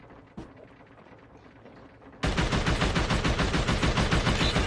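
Automatic fire in the shooter game Call of Duty Mobile: a lone shot, a pause, then a sustained rapid burst that empties the magazine, loud and steady in an even, fast rhythm.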